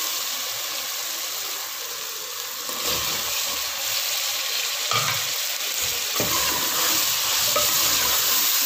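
Potatoes fry and get stirred in a spiced masala for an aloo baingan dish. A continuous loud sizzle runs under several scraping stirs of the spoon, with no voices.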